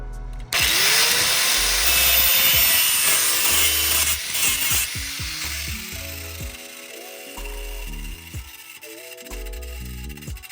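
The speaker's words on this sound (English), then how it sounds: "just kind of clean up this part with the grinder" Grinding on a cut front suspension part from a 2014 Honda CR-V during strut and sway bar link replacement: a loud, sustained grinder whine running nearly throughout, close by, with short pauses and clanks over a rhythmic backing beat.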